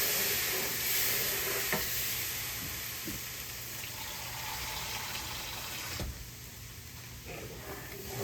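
Hamburger meat frying in a pan while being stirred, giving steady sizzling with scraping and stirring noises and occasional clicks throughout.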